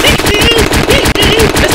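Rapid automatic AK rifle fire in a video game, a dense continuous burst of repeated shots, loud and close, with no pause except one brief break.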